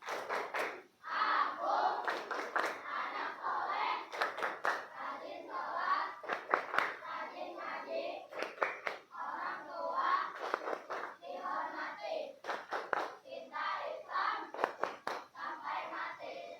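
Children chant the tepuk anak soleh in unison during a lesson, their voices carrying together over rhythmic bursts of sharp, group hand claps that repeat steadily throughout.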